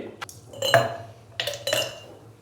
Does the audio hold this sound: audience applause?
no